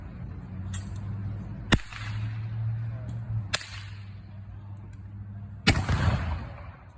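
Civil War reenactment muskets fire one after another by files outdoors, four sharp cracks spaced a second or two apart, each followed by a short rolling echo over a low background murmur.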